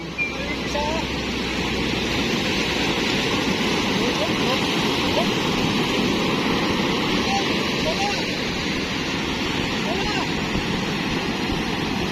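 Large ocean waves roar continuously around a small boat at sea, a dense, steady wash of surging water with wind-like hiss and no clear breaks.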